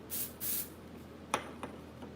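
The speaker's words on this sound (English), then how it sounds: "I'm going to just go in with some undone texture spray on it." Two short bursts of aerosol texture spray hiss onto hair, close by, followed by a couple of faint clicks.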